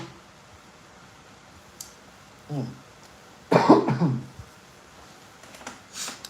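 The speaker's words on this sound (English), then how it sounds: "let me blow my nose real quick." After a quiet stretch, a short snort is followed by a louder, longer nasal blast from someone close by, then a few faint clicks.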